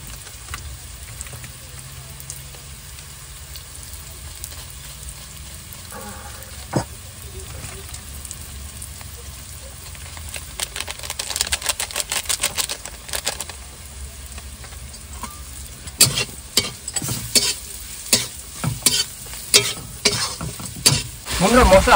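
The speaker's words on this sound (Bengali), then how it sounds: "বন্ধুরা মশলা হালকা কষে নিচ্ছে," Spices with black pepper stir-fried for a crab curry, a steady sizzle with spoon scraping and stirring strikes that grow louder and more frequent toward the end, close by, with no talk.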